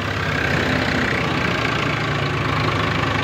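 A tractor engine runs steadily at close range on a farm field, a loud, even idling chug with a low knocking rhythm and no talk over it.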